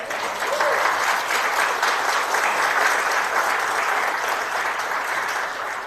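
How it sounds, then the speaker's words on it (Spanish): A church congregation applauds steadily, a full and even crowd of clapping hands heard close and loud for several seconds with no voices over it. "Eso se merece un aplauso del Señor"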